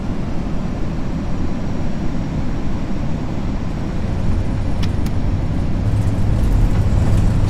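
FSLabs A320 engines idling after touchdown in Prepar3D, a steady loud broadband jet roar with deep low rumble that builds slightly toward the end, with faint high clicks.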